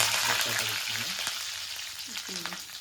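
Curry leaves dropped into hot oil for raw mango pachadi, a steady broadband sizzle of frying under faint voiced murmurs, continuing evenly throughout.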